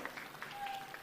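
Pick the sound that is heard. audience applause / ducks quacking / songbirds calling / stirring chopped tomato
audience applause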